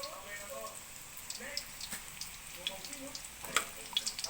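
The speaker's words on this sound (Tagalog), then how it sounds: "Siyempre, gisa muna natin yung ano. Bawang. Siyempre, may butter." Garlic sautéing in butter in a pan for buttered shrimp gives a soft, steady sizzle with scattered crackles and pops, heard under someone talking.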